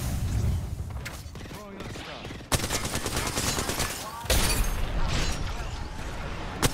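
A grenade lands and detonates during a multiplayer battle-royale match, with sharp gunfire bursts and booming blasts among rapid shooting, all under ongoing voice chat.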